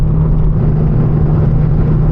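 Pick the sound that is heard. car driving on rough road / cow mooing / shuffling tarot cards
car driving on rough road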